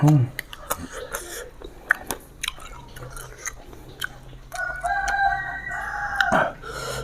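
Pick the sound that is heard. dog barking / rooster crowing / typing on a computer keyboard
rooster crowing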